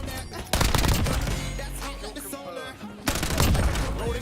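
Sustained automatic gunfire in a military shooter video game, loud and dense bursts that drop briefly before resuming with full force, with no voices over the shooting.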